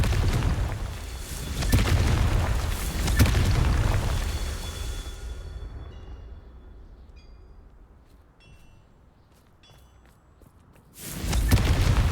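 A Confringo spell explodes in Hogwarts Legacy with a loud, booming blast and rumbling debris that fades over several seconds, before another heavy boom bursts in at the end.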